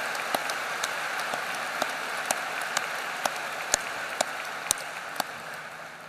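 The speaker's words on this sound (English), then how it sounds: "Please join me in a round of applause to show our appreciation for their leadership." A large crowd applauds at a May 2016 university commencement ceremony for the College of Health Professions, a faint, even hiss of distant clapping with occasional sharper individual claps standing out.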